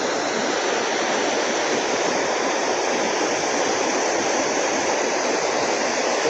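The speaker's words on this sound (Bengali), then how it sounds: "তাতেই জলের যে গতি সত্যি ভয়ঙ্কর একটি ব্যাপার।" Water rushes through a barrage on the Tarafeni river, a dense, steady roar of fast-flowing water, loud and close, continuous throughout with no voices.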